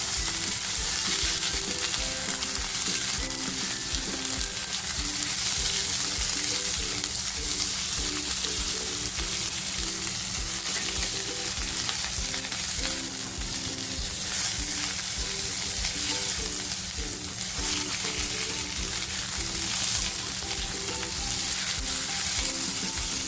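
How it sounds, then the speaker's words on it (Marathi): Coriander with its stems sautéing in hot misal masala, giving a loud, dense, continuous sizzle that holds steady throughout, close up, with a faint low hum beneath. "ती कोथंबीर टाकते आणि तिला अशी छान परतवून देते"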